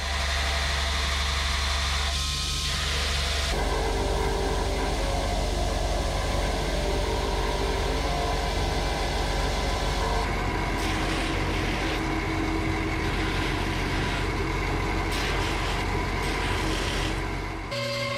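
Grinding a knife guard to shape, even on both sides, for a custom knife: a steady, loud abrasive roar of the grinder runs continuously throughout, with shifts in pitch as the metal is pressed and worked.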